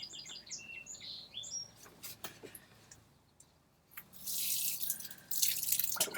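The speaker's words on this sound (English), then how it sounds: "And then I would put a little bit of water on them in my watering can." Outdoors, a watering can pours water onto freshly planted seeds, a soft hiss of splashing that starts midway and continues to the end, after a few birds chirp and faint drips sound early on.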